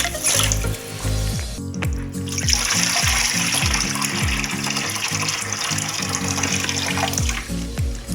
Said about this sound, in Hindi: इसीलिए मैं इसके ऊपर ठंडा पानी शावर कर रही हूँ।